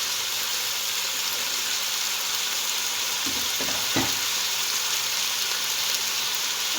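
Onions frying in a pan toward light brown for a BBQ chicken biryani, a steady broadband sizzle holding throughout with a couple of brief stirring scrapes near the middle.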